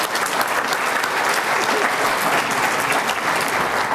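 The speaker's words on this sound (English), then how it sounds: "Thanks, special round of applause for Bob Cleveley" Loud, dense applause from a crowd at a hall of fame induction, an even wash of many clapping hands sustained from start to finish.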